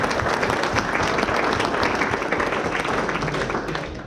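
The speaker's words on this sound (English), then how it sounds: "So a big round of applause for my best man, Benny." A room full of wedding guests applauds loudly and continuously, dense clapping that holds steady before easing off slightly at the end.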